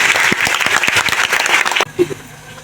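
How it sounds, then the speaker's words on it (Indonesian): A crowd of high school students claps together at a Christian worship service in a school setting, producing loud, dense applause that stops abruptly after about two seconds, leaving a quiet room. "Tepuk tangan dulu buat Tuhan Yesus"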